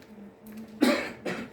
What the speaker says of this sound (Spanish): me viene un poquito de tos